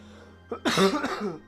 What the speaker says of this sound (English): excuse me, sorry about the coughing